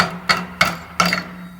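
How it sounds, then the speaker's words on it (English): Three sharp metallic knocks from a chipping hammer strike slag on a multi-pass 7018 weld, evenly spaced, close and alone, each ringing briefly. "I'm going to take my chip and hammer."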